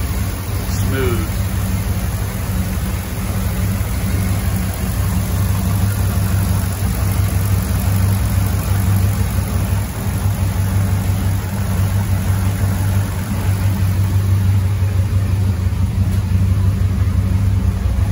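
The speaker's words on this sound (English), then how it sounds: "Really idling nice, starting to really come together and sound" A Land Rover Defender 90 with a swapped-in LS V8 idles steadily, a close, even low rumble and hum that holds without revving for the whole stretch.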